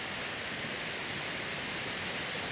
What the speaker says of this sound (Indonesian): Kita lagi berada di air terjun Kota Bol.